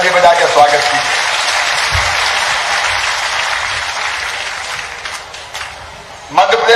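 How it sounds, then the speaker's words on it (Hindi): Audience applause at a BJP political rally in Madhya Pradesh, a loud sustained wash of clapping from a large crowd that holds steady for several seconds, dips briefly, then swells again near the end. "जरा तालियां दोनों हाथ ऊपर उठाकर ताली बजा के स्वागत कीजिए"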